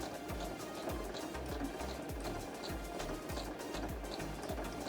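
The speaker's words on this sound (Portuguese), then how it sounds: "vou puxando meu tecido, deixando ele alinhado e faço essa costura" A sewing machine stitching a seam in fabric for a small coin purse, a quiet rapid mechanical whir with a regular low thudding pulse, close and continuous with no talking.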